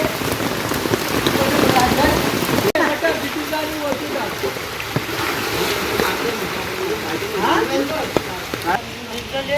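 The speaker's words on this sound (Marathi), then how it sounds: "पाऊस वगैरे जोरात आला आहे" Heavy rain pours down in a steady, dense hiss, with drops pattering close by throughout.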